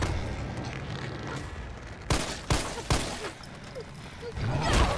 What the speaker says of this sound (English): If you don't stop shooting them little BB pellets at him